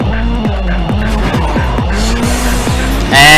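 Car racing in the video game Midnight Club II, its engine loud and close with rapid rhythmic revving that repeatedly climbs and drops as gears shift, tires squealing along, and a sharp burst of noise at the very end.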